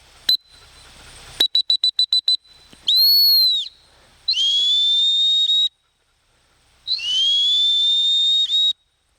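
A duck dog training whistle sounds loud and close: a quick blip, then a rapid burst of short sharp toots, followed by three long sustained shrill blasts with brief gaps between them.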